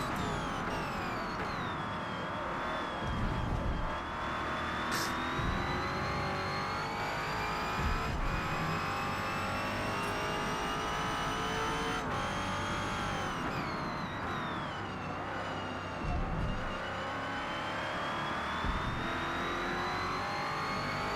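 A 2017 Ford Falcon V8 Supercar in Shell livery howls around Mount Panorama in Forza Motorsport, its engine note rising and falling steadily through gear changes and revs for the whole stretch, loud and continuous.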